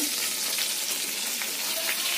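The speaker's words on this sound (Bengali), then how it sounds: "তো আমাদের মাছের এক সাইড ভালো করে ভাজা হয়ে গেছে" Tengra fish frying in a pan gives a steady, dense hiss and crackle of hot oil, continuous and fairly close, with no pauses.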